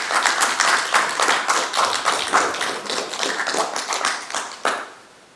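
Audience applause at a regular council meeting: a dense, steady burst of many hands clapping that holds for several seconds, then thins out and fades away at the end.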